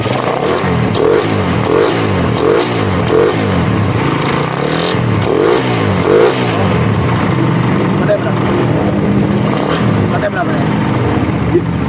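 A motorcycle engine runs loud and close, revving in repeated rhythmic bursts before settling into a rough idle, with voices talking over it.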